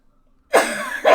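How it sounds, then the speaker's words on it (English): A person with asthma during pollen season coughs close up, one harsh cough after a moment of silence followed quickly by a second, loud and dry. "I keep coughing"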